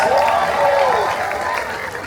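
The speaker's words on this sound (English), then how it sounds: "Give them a big round of applause, please." Audience aboard the cruise ship Harmony of the Seas claps for a couple who won a kissing contest at a show, a brief burst of crowd applause with a rising whoop over it.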